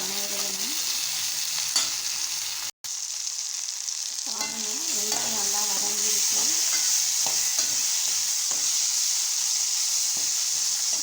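Onions and curry leaves sizzle steadily in a clay pot for bitter gourd kuzhambu, with close scraping and stirring strokes recurring over the constant hiss, and no talking.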